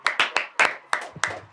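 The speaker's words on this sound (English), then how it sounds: "Round of applause." A few separate hand claps from a podcast studio audience on a South African talk show, sharp and close, about six in an uneven rhythm with a short pause between them.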